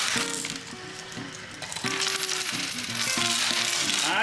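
Coins clatter and jingle continuously in a high-limit coin pusher arcade machine, metallic drops ringing out loud and close against steady arcade background noise.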